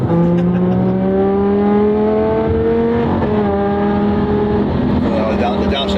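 A supercharged V10 Squadra Corse car downshifts through its gears, loud and close, with a rising and falling engine pitch and sharp revving blips, and someone talking over it.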